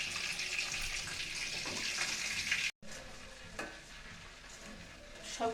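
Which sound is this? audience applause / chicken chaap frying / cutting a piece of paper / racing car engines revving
chicken chaap frying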